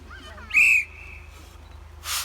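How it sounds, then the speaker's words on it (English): A referee's starting whistle at a Europe's Strongest Man strongman throwing event gives one short, loud, high blast, with faint crowd murmur before it and a brief breathy hiss afterward. "Okay, you ready? On the whistle."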